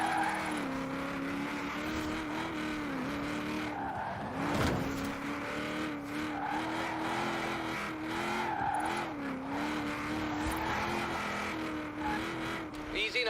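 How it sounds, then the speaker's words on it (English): A drifting car in Forza Horizon 4 slides through turns, its tires squealing in long wavering tones over a steady engine drone, loud and continuous. "Drifting is about entertainment, not just engineering."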